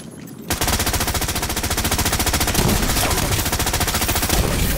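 Rapid automatic gunfire in the video game The Division 2 rattles in a long, loud, evenly spaced burst after a brief quiet start, with no voices over it.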